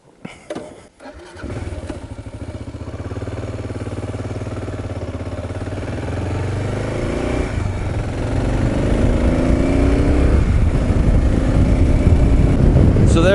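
A Kawasaki KLR 650 motorcycle revs up and pulls away, its single-cylinder engine loud and close, rising steadily in pitch and intensity as it accelerates through the gears.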